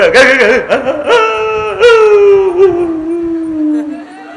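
A human voice imitates a dog's howl: one long, wavering cry that slides slowly downward in pitch, loud and close.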